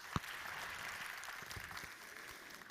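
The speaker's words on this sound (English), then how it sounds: "A round of applause," An audience applauds a speaker at a maternal and newborn health talk, a faint, distant wash of steady clapping with one sharper clap near the start, and no voices over it.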